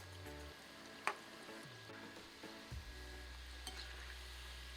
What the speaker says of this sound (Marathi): आपले भजे आपण एकीकडनं फ्राय झाले, आता हे पलटून छान खरपूस लाल करून घेऊ